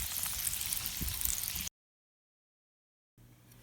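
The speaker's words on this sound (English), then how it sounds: "You can hear the sound of the bacon sizzle." Bacon on a grill gives a dense crackling sizzle with a steady hiss, close and fairly loud, cutting off abruptly into silence before resuming briefly.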